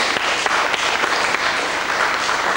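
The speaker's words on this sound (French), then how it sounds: "Vous pouvez applaudir également nos deux candidats aujourd'hui" Studio audience on a 1992 French television game show applauds the two candidates, a dense, steady burst of clapping lasting a few seconds at even loudness, with no voices over it.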